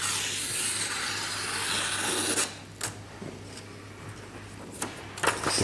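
A knife from an Eden essentials set cutting through food, giving a coarse, steady rasping scrape for about two seconds, then a few short separate slicing strokes, close and moderately quiet.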